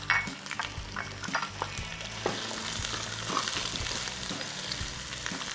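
Half a kilo of chicken, ten pieces, fries with lightly browned onions, ginger and garlic for pulao, giving a loud continuous sizzle broken by repeated scraping stirs and light clinks of a spoon against the pot.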